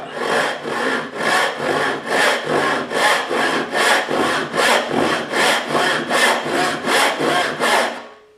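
A hand saw filed crosscut at 9 points makes a rip cut along the grain of wood, steady rhythmic strokes close up, about fifteen even back-and-forth rasps with no talking.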